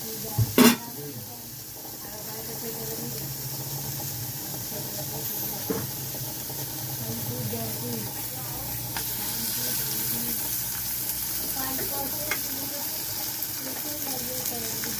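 Cumin and mustard seeds sizzle in hot oil on a low flame for tempering idli chutney, a steady soft hiss with a few sharp pops and stirring clatters.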